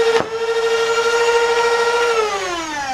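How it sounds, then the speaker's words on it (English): A Nerf Rapidstrike blaster with a burst-fire mod revs its flywheels in a loud, steady whine, with a sharp click as the dart fires early on, then the motors spin down toward the end. "So you rev and then tap, and you'll get automatically your single shot."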